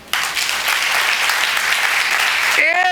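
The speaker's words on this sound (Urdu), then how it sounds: "مارو ہاں تالی" Church congregation clapping together during a sermon, a loud sustained burst of applause that begins abruptly and fills the room, then cuts off near the end as a voice starts speaking.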